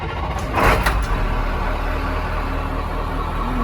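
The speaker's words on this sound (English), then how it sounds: "let's go ahead and crank this engine up so you can hear what it sounds like" An old bus engine cranks and fires, with a brief rough burst of starter and combustion noise before settling into a steady, loud low rumble up close.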